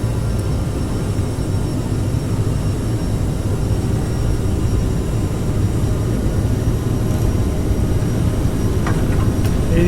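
Endeavor Air jet airliner engines spooling up on a takeoff roll at LaGuardia, a loud, steady broadband roar with rumbling low end that holds throughout, heard from inside the aircraft.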